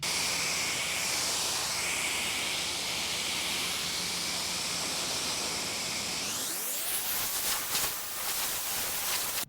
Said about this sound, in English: we're going to go ahead and give this a final rinse